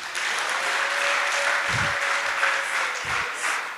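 A congregation claps together in a church during a sermon, a sustained, dense wash of applause with no voices over it.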